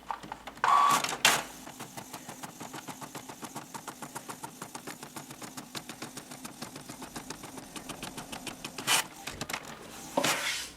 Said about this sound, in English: So my printer is printing the sheet I asked it for, and this is on normal print paper.